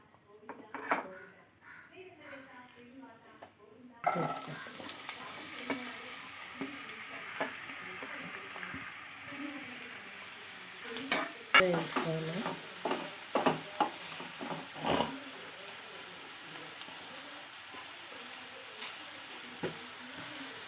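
Chopped onions and green chillies sizzle in hot oil in a pan for a mushroom curry, starting abruptly after a quiet opening, with a steady frying hiss and repeated scrapes and clinks of a spoon stirring against the metal.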